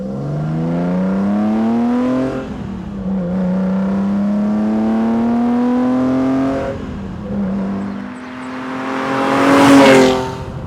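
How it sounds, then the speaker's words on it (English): BMW M1 supercar engine heard through its velocity stacks and exhaust: a loud, smooth rising and falling engine note with audible intake rush, swelling in revs near the end. "you can actually hear the sucking in of the air combined with the exhaust."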